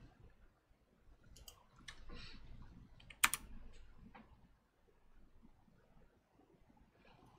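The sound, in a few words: typing on computer keyboard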